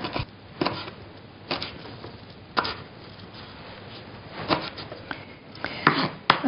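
A knife chopping a handful of fresh rosemary on a board, several sharp close taps spaced irregularly, with soft rubbing and scraping between the cuts.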